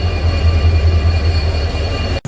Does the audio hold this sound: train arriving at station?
yes